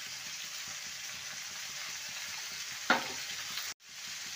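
Vegetables with salt and turmeric sizzle steadily in a pan while a spoon stirs in rhythmic scrapes, then a sharp clack near the end as the sound cuts off briefly.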